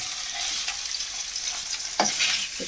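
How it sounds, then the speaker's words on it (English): Smoked haddock sears in a hot frying pan, giving a steady close sizzle with a few sharper spits and pops, no voices. "Just trying to sear the edges."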